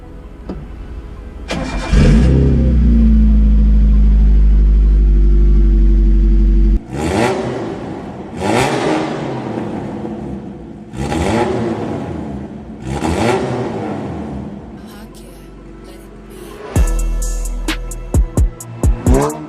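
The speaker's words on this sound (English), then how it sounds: "Start up the car and see if we can drive it around a little bit." A mid-engined, rear-wheel-drive Maruti Swift drift car cranks and fires up, idles loudly with a deep rumble, then gives a series of sharp revs that rise and fall, ending in a few quick blips, close and loud.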